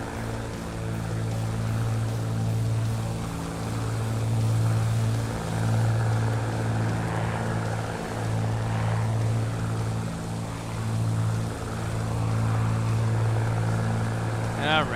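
Bonanza A36 propeller airplane in flight, heard from a chase plane: a loud, continuous propeller drone with a steady throbbing beat that holds for the whole stretch, with a brief higher whine near the end.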